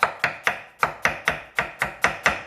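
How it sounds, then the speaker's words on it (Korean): Thin slices being cut through raw potato with a kitchen knife on a cutting board, about ten crisp knocks in a steady, slightly uneven rhythm, close and clear with no talking. "최대한 얇게 썰어주세요"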